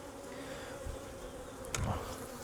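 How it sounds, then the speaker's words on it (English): A steady, close hum of many honeybees buzzing together, with a brief louder buzz from one bee passing near. "So this is emerging bees here."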